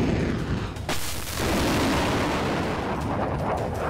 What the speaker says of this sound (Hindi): डोनेत्स्क में जोरदार गोलीबारी।